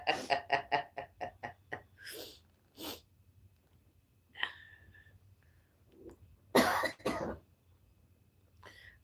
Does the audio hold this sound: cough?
yes